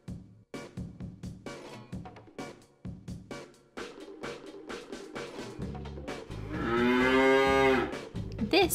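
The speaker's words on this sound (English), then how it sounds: "This is a cow." A cow gives a long, loud, drawn-out moo near the end, preceded by a series of short rhythmic clopping and knocking sounds on a farm.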